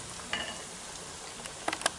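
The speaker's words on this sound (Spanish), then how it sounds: "voy a seguir friendo" Russian-style chicken fillets fry in hot oil in a pan, a soft continuous sizzle with a few sharper pops and light clinks from stirring, quiet and close with no talking.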